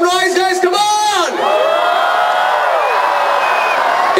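Crowd at a record-attempt event in Amravati cheering, whooping and shouting loudly in a sustained roar, with an announcer's voice over the start.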